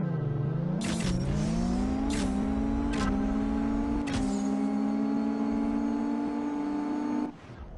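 In the CSR Racing video game, a race car launches loudly with rising engine whine, broken by about four quick gear-shift cuts, before the revs drop away abruptly near the end.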